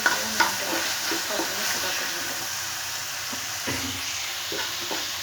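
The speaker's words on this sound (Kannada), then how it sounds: "ಈ ಥರ ಈಗ ಎಣ್ಣೆಲೆಲ್ಲ ಫ್ರೈ ಆಗಿದೆ." Tomatoes frying in oil give a steady, fairly loud sizzle with a few soft stirring knocks near the start and middle, alone without talking.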